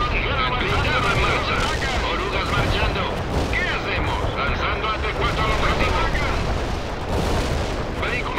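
A missile fires amid a dense, continuous roar of battle in the World in Conflict war game, with heavy booms and gunfire layered together and a voice talking over the din.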